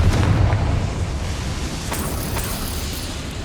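A Confringo spell explosion in Hogwarts Legacy sounds as a thick rumbling burst that is loudest at the start and then tails off into a sustained crackling roar.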